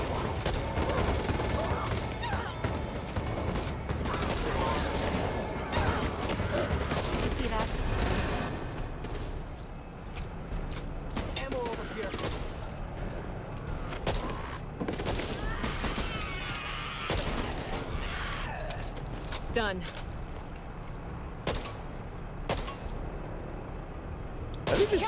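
Sniper gunfire rings out in the Back 4 Blood game, with repeated sharp cracks and booms scattered over a busy, rumbling battle din, with voices talking in between.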